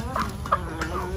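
Native chickens on a farm in Glan, Sarangani cluck close by in a few short, separate calls over a low background hum, with no talking.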